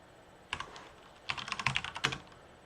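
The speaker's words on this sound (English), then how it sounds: "If I can hit my keyboard correctly." Fingers type on a computer keyboard during Python coding, one short burst of keystrokes followed by two quicker flurries of clicks, close and clear with no talking.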